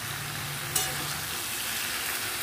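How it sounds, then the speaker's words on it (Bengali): A spiced mixture sautés in a pan before water is added, producing a steady close frying hiss with one sharp clink early on and no speech. "এটা দিয়ে আর একটু সময় আমি কষিয়ে তারপরে জলটা দিয়ে দেব।"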